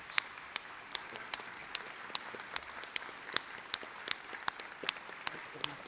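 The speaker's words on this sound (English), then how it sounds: "I would like for everyone in this room to join me in applauding Dr. Morrissey" Audience applause at a college spring convocation and presidential investiture, a steady wash of many hands with sharp individual claps standing out, fairly distant in a large room, with no talking over it.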